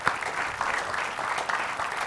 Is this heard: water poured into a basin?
no